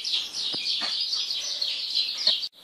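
Birds chirp and tweet continuously in a dense, bright chorus, fairly close and loud, with a few sharper calls standing out before the sound cuts off abruptly near the end.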